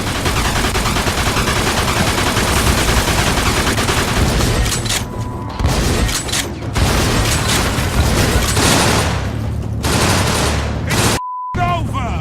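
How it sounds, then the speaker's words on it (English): Gunfire in the Mafia 2 video game: sustained rapid bursts of automatic fire and scattered single shots, loud and dense, with brief gaps and a few voices in the mix. "They're shooting at me, for Christ's sakes."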